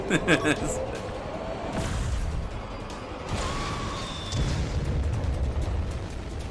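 Explosions and booming blasts in a Skibidi Toilet animation, several loud bursts and rumbling impacts overlapping in dense, noisy succession.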